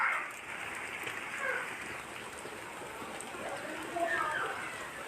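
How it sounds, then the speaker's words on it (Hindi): Rain falling in Karachi, a soft continuous hiss and patter of drops heard at a distance and fairly faint, with brief higher tones and a slight swell near the end. "देख लें, बारिश बारिश बारिश बारिश।"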